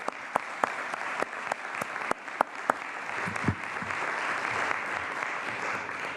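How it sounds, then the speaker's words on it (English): Applause rings out for veterans in the California State Senate chamber, a steady crowd clapping with a few sharper, louder claps standing out early on, sustained throughout without talk. "Please give them a round of applause."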